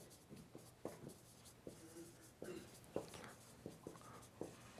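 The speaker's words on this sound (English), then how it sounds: "so let me write the summary here." Chalk or marker taps and scratches on a board in a calculus lecture, a close run of short irregular strokes and clicks with no talking.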